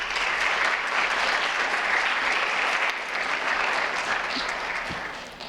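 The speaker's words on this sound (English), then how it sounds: "Please give them a round of applause for their unwavering dedication" Sustained applause from a crowded audience at a high school world language honor society induction, steady and dense throughout, tapering slightly toward the end.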